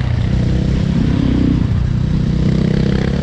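A Suzuki DRZ400E or KTM EXC500 dirt bike rides in third to fourth gear on long gearing, its engine droning loud and steady with a close, even roar and no speech over it.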